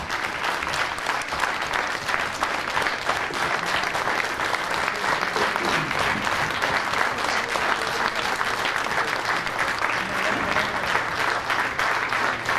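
A large crowd at a Khyber Society event in New York applauds to welcome Imran Khan. The clapping is loud and sustained, with an even, continuous roar of many hands.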